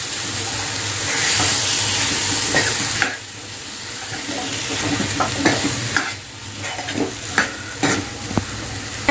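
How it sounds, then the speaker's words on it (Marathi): Beans (val) cooking in a pan of hot oil with masala sizzle loudly and continuously while a spoon stirs and scrapes, adding irregular clinks and knocks close by. "आता आपण ही जी भाजी होती ती आपण यामध्ये घालत आहोत आता भाजीला पण चांगला असं मिक्स करून घेऊया"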